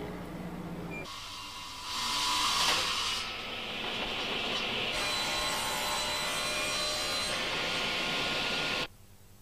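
Wood is cut for piano cabinets at a Seiler piano factory, a steady broadband machine saw roaring continuously for about eight seconds with a louder surge near the start, then stopping abruptly.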